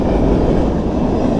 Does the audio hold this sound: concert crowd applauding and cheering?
no